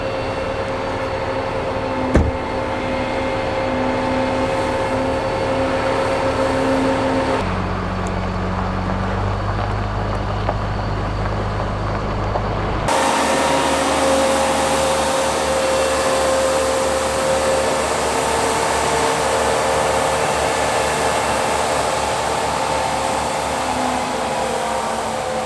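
Water trucks spray a steep gravel road, a loud steady rushing hiss with a constant engine drone that shifts character twice, continuous and close with no talk.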